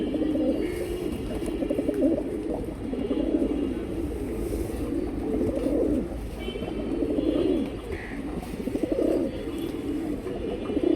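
A pair of Giribaz pigeons coo in repeated low, throaty phrases that rise and fall steadily throughout, close by, with faint background noise and no talk.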